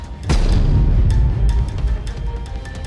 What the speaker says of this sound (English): The explosion immediately collapsed the trees to the ground